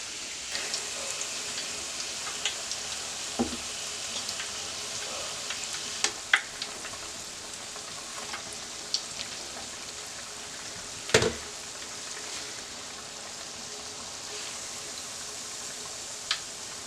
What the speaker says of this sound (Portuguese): coloque direto na frigideira. Se necessário, frite de um lado e depois do outro.